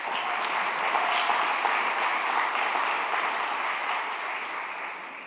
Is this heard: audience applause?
yes